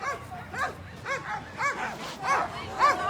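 Sled dogs at the start line of the Fur Rondy sprint race on 4th Avenue in Anchorage yip and bark excitedly in quick repeated bursts, several dogs close together, with a faint murmur of voices behind.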